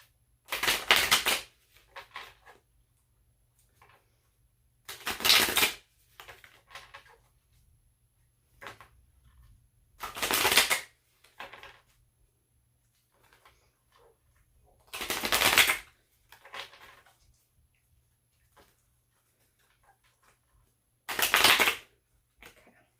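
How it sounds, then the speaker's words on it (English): Five bursts of rapid riffling as a tarot card deck is shuffled, spaced roughly five seconds apart, close and crisp with light card handling and quiet pauses between. "Try to get one card out of this deck."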